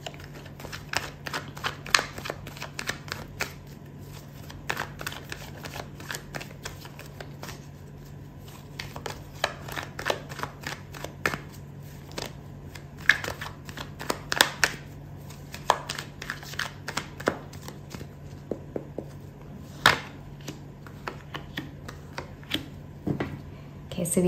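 Tarot cards shuffled by hand during a love reading, a long run of soft, irregular riffling and flicking clicks close to the microphone, with a steady low hum beneath and no talking.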